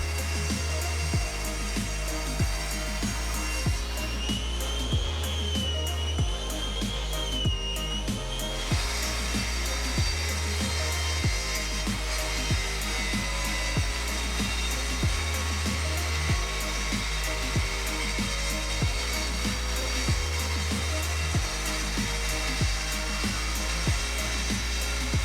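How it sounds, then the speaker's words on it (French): A power tool whines steadily while cutting and sanding a solid oak desk top, a loud continuous buzz with a rhythmic pulsing beat beneath it throughout, no voices. "Ensuite je coupe le plateau pour le poncer et fais la même chose pour le plateau du haut."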